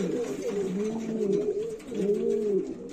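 Pigeons in a breeding loft cooing up close, with low throaty coos repeating in two rolling phrases over a steady background hum.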